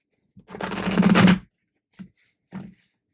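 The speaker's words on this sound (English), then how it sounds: "I think I want to give it one more good shuffle." A deck of tarot cards gets a firm riffle shuffle up close, a dense fluttering burst of about a second followed by two short card taps.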